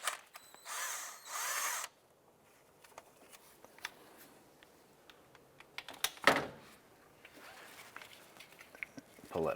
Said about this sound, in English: I'm going to use a 12mm socket to go ahead and remove this nut.